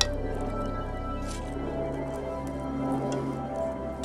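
A basic old spatula smooths and levels a thick mixture, giving soft, close, continuous squishing and wet scraping strokes.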